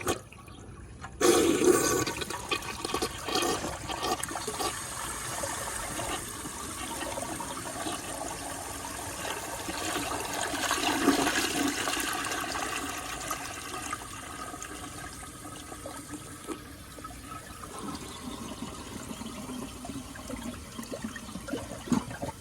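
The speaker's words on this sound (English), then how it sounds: "A toilet flushing out about this much of water." A 1971 American Standard Cadet toilet flushes with a sudden loud surge, then a long swirling drain and gurgle that settles into the steady trickle of the tank refilling, close by and without talk.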